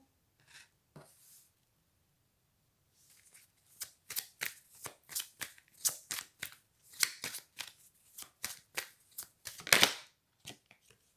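Tarot cards are shuffled and drawn for a reading, a few soft isolated card taps followed by a run of crisp, quick riffling snaps of varying strength, close and quiet with no talk.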